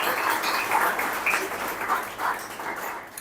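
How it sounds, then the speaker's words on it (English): Audience applause at a Parsi agiary jashan gathering, a short burst of crowd clapping that swells and fades unevenly over a few seconds, moderately loud with no talking over it. "So a round of applause for Mr."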